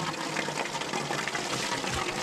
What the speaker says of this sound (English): and fill up the other tub.